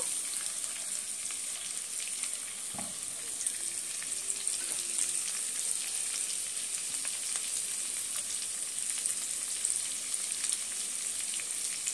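Steady, close sizzle of butter and garlic frying in a pan for a fettuccine sauce, a continuous crackling hiss with small pops and no voices.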